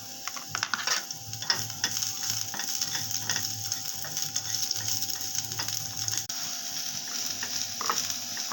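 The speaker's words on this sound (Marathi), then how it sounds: "आता आपण मस्तपैकी फ्राय करून घ्यायचं ह्याला, जोपर्यंत हे ब्राउनिश होत नाही तोपर्यंत" Spring onion greens fry in a pan after browned garlic is taken out, a continuous sizzle with quick, rhythmic scraping and clacking as they are stirred close up.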